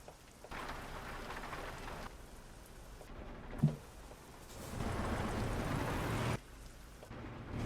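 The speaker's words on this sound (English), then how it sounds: "every time it rains in this game, you can't stop for shit" Rain falls steadily in Euro Truck Simulator 2, a dense hiss that drops out briefly and returns, with one short thump partway through.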